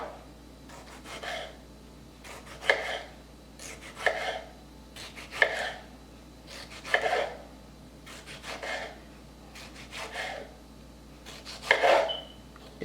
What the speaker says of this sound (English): a serrated knife for the tomato. Right. And then same thing with the tomato slices.